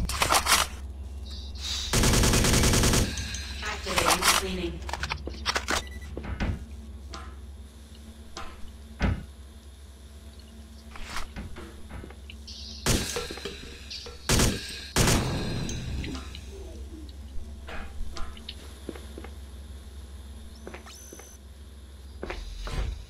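Robots fire weapons in the video game Alpha Prime, with a dense burst of gunfire followed by scattered single shots and sharp clicks across a quiet, low hum.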